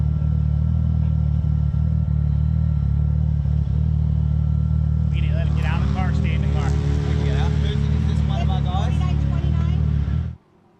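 Off-road race vehicles at an Ultra4 event drone with loud, steady engine rumble near the course, and someone talks over the noise for the second half before the sound cuts off.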